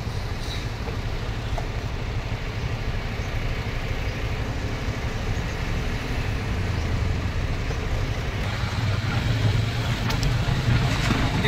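Stationary heavy traffic on the Devla–Sogras highway, cars and trucks idling amid roadworks, a steady broadband engine rumble with low hum that stays constant and fairly loud throughout.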